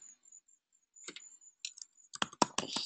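Keys click on a computer keyboard, a faint scatter of light taps that quickens into a denser burst of typing toward the end, quiet and close with no talking.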